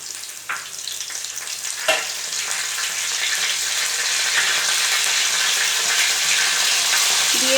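Onion paste sizzling in hot oil with potatoes for a Bengali jackfruit curry, a loud, close frying hiss that starts with a few spatters and then swells into a steady crackle with no talking.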